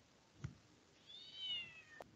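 Single recorded cat meow played through a phone speaker from an app button, faint and thin with a rising-falling tone and small taps around it.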